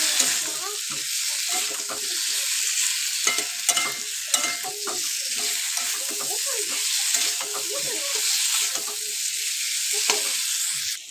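Fried potato and carrot sautéed with spices in a pan for khichuri, a steady loud sizzle with continual scraping and stirring clatter throughout, close by.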